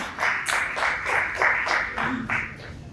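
An audience claps in bursts to welcome guests onto the stage at a Hindi talk event, the applause moderately loud and fairly even, with no speech over it.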